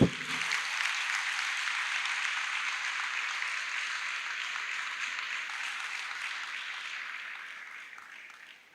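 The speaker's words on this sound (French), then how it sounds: "Un maximum d'applaudissements, s'il vous plaît, pour Seydina Aliou Diop." Applause from the audience at a school oratory contest final, a steady moderate wash of clapping that holds for several seconds and then gradually fades.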